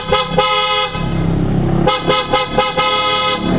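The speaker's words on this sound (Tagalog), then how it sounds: "testing natin yung horn" A car horn is tested in a series of loud, close honks, short blasts in an uneven rhythm with a brief pause between the first and second groups, over a running engine.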